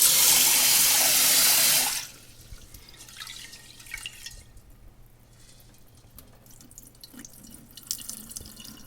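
Water gushes loudly from a tap over rice being washed for two seconds, then stops, leaving soft drips, light clinks and wet handling sounds close by.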